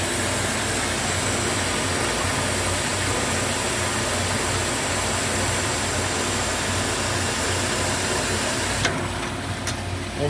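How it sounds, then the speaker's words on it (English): Mitsubishi MV1200S wire EDM machine auto-threading its wire, a loud, steady broadband mechanical whir and hiss filling the space, with a change in tone and a few clicks near the end, no talking. "Now we will auto thread, and you can see everything feeding through."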